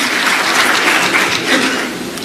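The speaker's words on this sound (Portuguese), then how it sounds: "Eu gostei das palmas do Paulo Guedes" An audience applauds at a political speaking event, with dense, loud, sustained clapping from many hands that tapers off slightly at the end.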